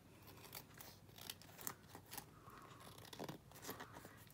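Scissors trimming the overhanging edge of a chipboard album page, giving a run of crisp snipping and crunching cuts at close range, with no talking.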